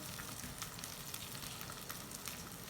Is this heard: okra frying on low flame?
yes